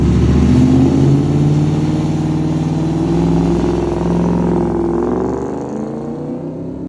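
A Ford Mustang drift car cruises on the road with a loud, steady engine drone from inside the cabin, the pitch shifting slightly as it runs, then easing off and fading toward the end.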